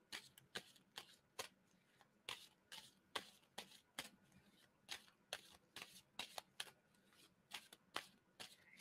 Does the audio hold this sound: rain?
no